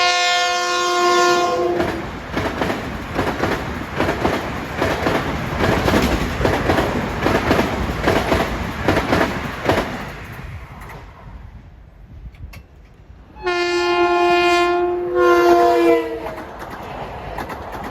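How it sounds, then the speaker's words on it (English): Long Island Rail Road train 2052, bound from Grand Central to Ronkonkoma, sounds its horn in long blasts as it approaches, then roars past with a steady clatter of cars before the horn blows again. "approaching is train 2052, Grand Central to Ronkonkoma"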